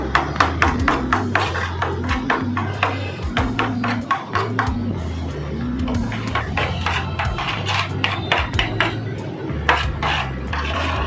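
Sweet mango pulp being mashed and kneaded with green food colour in a bowl, giving a steady run of close, soft taps and scraping clinks with a low hum underneath, and no voices.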